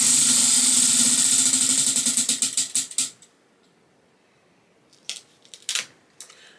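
A prize wheel spins with rapid clicking that gradually slows into spaced, louder ticks and stops, followed by a short quiet gap and a few close handling clicks.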